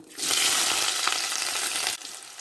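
Chopped onions hitting hot oil with mustard seeds, bursting into a loud, dense sizzle that holds steady for under two seconds and then drops to a quieter hiss.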